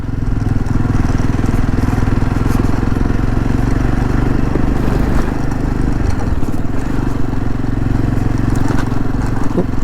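Motorcycle engine labouring loudly and steadily as the bike climbs an uphill mountain road in the Zanskar valley, a continuous close drone with deep low rumble and no pauses.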